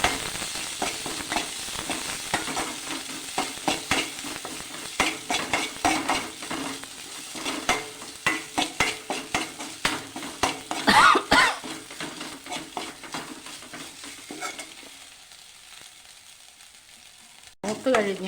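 Mustard seeds, curry leaves and crushed spice paste frying in hot oil, a loud crackling sizzle with rhythmic stirring scrapes that fades out near the end before a final clatter.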